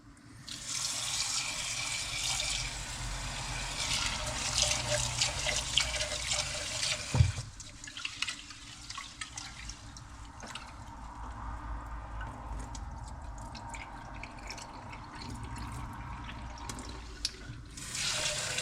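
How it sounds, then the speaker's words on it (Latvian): Rice being rinsed under a running kitchen tap, a steady close rush of water into a sink with splashing, briefly interrupted by a clunk about a third of the way in before flowing on. "nomazgāsim rīsus. Vienkārši zem krāna tekošu ūdeni."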